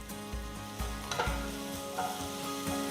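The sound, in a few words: garlic and ginger stir-frying in oil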